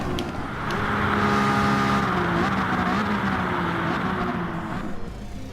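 Renault one-make race cars in GT Sport run three wide into a hairpin, several engines droning loud and close with shifting revs as they brake and accelerate through the corner.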